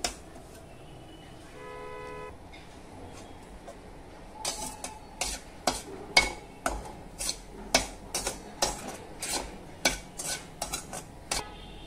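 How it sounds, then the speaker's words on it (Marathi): Semolina roasting in a pan over low heat, first a quiet stretch with a brief beeping tone, then a series of sharp metallic scrapes and taps as a spoon stirs against the pan. "याप्रमाणे ना रवा गुलाबी रंगावरती परतून घेतलेला आहे।"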